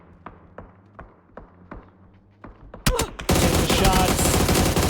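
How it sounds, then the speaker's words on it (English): Gunfire in the PUBG video game at a competitive esports match: a steady run of spaced single shots, then a sudden loud burst of rapid automatic fire that carries through to the end. "Shots."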